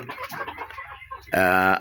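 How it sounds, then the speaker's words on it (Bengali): Desi chickens on a farm of about a hundred birds over a kilogram each give a short, close, loud cluck after a stretch of someone talking. "এই যে মুরগি এত বড় বড় হয়েছে"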